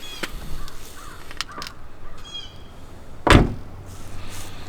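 A car door slams shut once with a sharp, loud thump after a few lighter clicks and rattles, set against an outdoor background with a crow cawing faintly.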